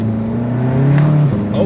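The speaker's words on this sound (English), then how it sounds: "We'll do a little mini first gear pull." A tuned VW MK7 GTI pulls hard in first gear, its engine drone rising in pitch close up inside the cabin, briefly masked by a voice.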